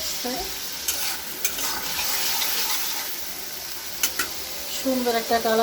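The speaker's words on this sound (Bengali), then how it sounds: "আমি মশলাটা ভালো মতো কষিয়ে তারপরে ডিমটা দিয়ে দেব" Masala frying in a pan at home before eggs go in, a steady broad sizzle with occasional stirring scrapes and clinks, close and continuous, with a few brief voice fragments near the end.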